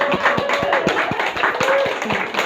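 A church congregation at a Sunday service claps in a quick, rhythmic patter to welcome a first-time visitor, with voices murmuring underneath.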